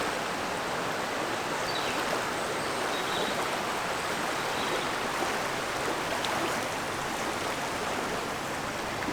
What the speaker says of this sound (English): And you're right beside the river.